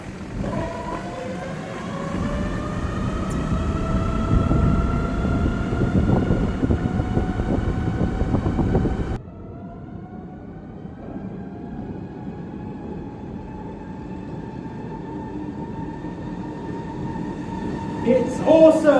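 A Sinclair C5 electric vehicle running through a tunnel beneath Bath, a steady rising motor whine with a rumbling, echoing drone that drops sharply partway through and then builds again, heard up close.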